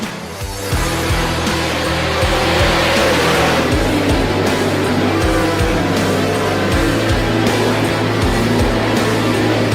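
Sprint cars roar around the Knoxville Raceway dirt track, several engines loud and close at once, with a continuous snarling drone and sharp rises and falls in pitch as cars accelerate and pass.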